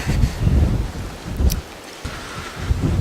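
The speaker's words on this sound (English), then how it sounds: "it is windy as crap" Strong gusty wind buffets the microphone outdoors beside a trailer, producing a loud, continuous low rumble with repeated surging gusts and no talking.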